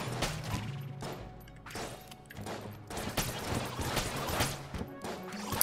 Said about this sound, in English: I'm gonna switch to the witch pistol